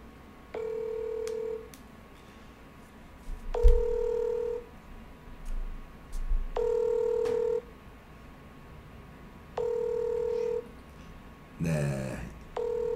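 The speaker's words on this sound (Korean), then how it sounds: "전화 연결하고 있는데요." A telephone call being connected on air: repeated bursts of steady dial and ringback tones, each about a second long, sound at even intervals over a low background hum, with a brief rustle near the end.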